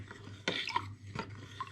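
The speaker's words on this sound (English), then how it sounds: "I'm going to give those a little stir around" Oak chips stirred into whiskey spirit in a container, two or three short scraping swishes with a faint clink, close and quiet in between.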